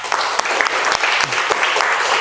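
A classroom of Muhammadiyah school pupils claps loudly and steadily, a dense burst of many hands close by that lasts throughout.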